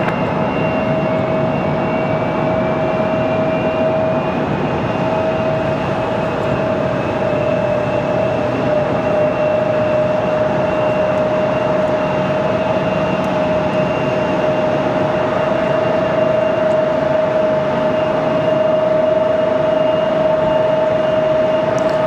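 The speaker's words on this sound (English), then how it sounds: "That last one, Republic Airways 3520 off to Washington Dulles." Republic Airways jet departing Raleigh-Durham International for Washington Dulles, a steady loud jet roar with a sustained whine, continuous and fairly close throughout.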